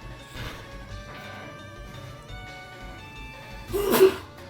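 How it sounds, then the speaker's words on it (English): A single person gives one sudden, loud sneeze near the end, over a steady background of video game music. "I have a sneeze coming on, so excuse me,"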